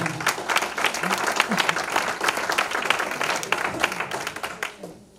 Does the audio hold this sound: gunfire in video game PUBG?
no